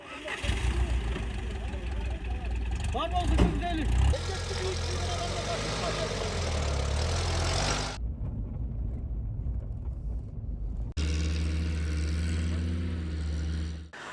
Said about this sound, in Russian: Им придется подниматься в гору на машине одного из сельчан, которую он предоставил в помощь друзьям.